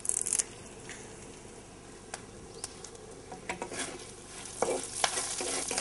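Dried red chillies and curry leaves fry in hot oil with a faint continuous sizzle, broken by sharper crackles and pops that grow busier toward the end.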